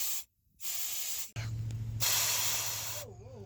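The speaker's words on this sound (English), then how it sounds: "I'm taking the compressor and blowing it in the back." Air from a compressor blows out the return line of a Porsche 944 parts car in loud, close hissing bursts, two short blasts, a pause, then a longer rushing spray with a low hum beneath.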